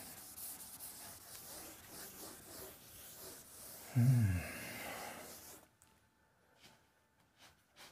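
Duster or hand rubbing across a classroom board to erase writing, heard as a series of soft rhythmic scrubbing strokes with a brief louder breathy burst around four seconds before fading out.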